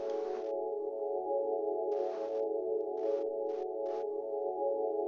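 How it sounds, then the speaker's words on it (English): Dawning, a sample from a sample pack, plays as a steady, sustained synth pad tone, overlaid by soft bursts of airy noise that come and go in a loose rhythm, heard alone. "there's another sample called Dawning. Let me just play it from the sample pack."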